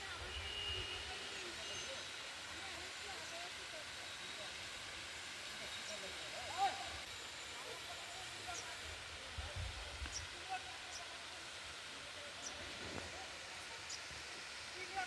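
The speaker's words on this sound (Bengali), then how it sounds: "তাও এটা কিন্তু সেই ছাঙ্গি ফলস" Sangi waterfall near Pelling in West Sikkim runs low in the dry season, giving a faint, steady, distant hiss of falling water throughout, with voices murmuring softly in the background.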